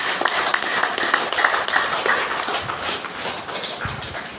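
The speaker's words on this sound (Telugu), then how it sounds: "గట్టిగా చప్పట్లు కొద్దాం మా సర్వేశ్వరుడికి" An audience claps loudly and steadily for the lord, a dense crowd of hands keeping up continuous applause close by, with no talk over it.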